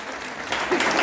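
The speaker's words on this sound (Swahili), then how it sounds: "Wacha tupige Bwana Yesu makofi mazuri." Church congregation clapping together, a brief dense burst of applause that rises in the last half second, with voices mixed in.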